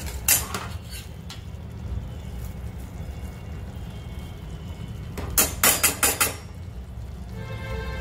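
Spatula scraping and clinking in a pan while mixing egg ghotala, quiet for a while, then a short cluster of louder rapid clinks and scrapes before settling down.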